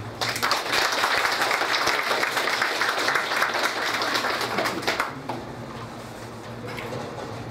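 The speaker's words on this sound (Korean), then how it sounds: "박수 부탁드립니다" Audience applause at a Korean regional community association general meeting, a dense sustained wave of clapping for about five seconds that then drops off, leaving fainter scattered claps and room murmur.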